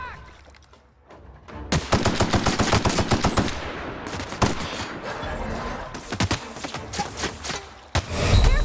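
Rapid automatic gunfire from a gun in The Outer Worlds, loud sustained bursts of shots with thuds between them, close and continuous over several seconds.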